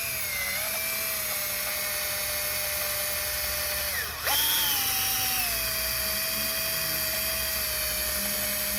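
A power drill fitted with a valve stem whines at a steady high pitch while it rubs double-sided tape off a 2006 BMW 325xi E90 windshield frame, briefly bogging down under load near the middle before spinning back up.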